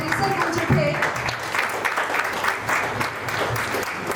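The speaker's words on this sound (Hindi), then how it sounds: "तालियों की गड़गड़ाहट से हमारा पूरा परिसर गूंज उठे" An audience claps steadily and densely throughout, a sustained wash of applause with a few voices faintly audible underneath.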